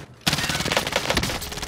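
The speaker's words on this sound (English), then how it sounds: "Where are we getting shot at from?" Rapid automatic gunfire bursts loudly after a short quiet start in Call of Duty: Modern Warfare, dense overlapping shots continuing steadily through the firefight.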